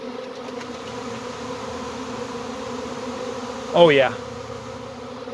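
A honey bee swarm hums steadily, wings flapping in a dense continuous drone, with a louder buzz sweeping close past midway and a brief spoken remark.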